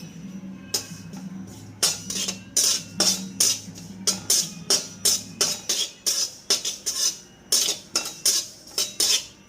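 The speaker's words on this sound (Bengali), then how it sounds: "এবার আমি যেই তিলটা নিয়েছিলাম ওটা অল্প একটু নেড়ে নেবো" A utensil stirs sesame seeds in a kadai on a gas stove, making a fast, regular series of sharp metallic scrapes and clinks that sound close and clear.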